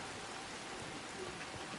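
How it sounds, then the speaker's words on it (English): Wind-blown rain in the video game Red Dead Online, a steady, dense hiss of drops on surfaces that holds evenly for the whole short stretch with no other sound. "Just pay attention to the Rockstar rain effects in this game."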